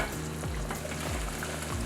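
Bean paste sauce for zhajiangmian in a pot, giving a soft, steady sizzle and bubbling with faint periodic stirring scrapes, quiet and close.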